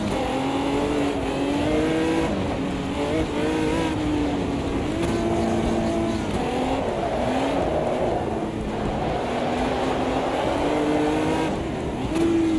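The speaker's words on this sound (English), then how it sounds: "You're constantly spinning up the inside rear wheel." A historic open-wheel race car in Automobilista 2 spins its inside rear wheel on a tight, twisty track, its engine revving and wailing up and down in rapid, repeated surges, loud and continuous with no talk.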